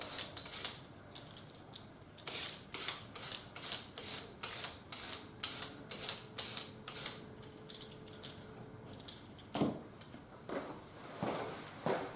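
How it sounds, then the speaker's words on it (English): A carrot is peeled in a kitchen with quick rasping strokes that come in close, rhythmic runs, with short pauses between groups. "So I'll just peel the carrot."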